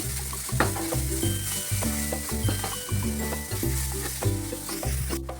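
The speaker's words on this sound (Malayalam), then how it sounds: "നന്നായി ഇളക്കി കൊടുക്കാം." A spice mixture with coriander powder and garam masala is stirred in a hot pan for a fish dish, giving a steady sizzle broken by regular scraping strokes of the spoon throughout.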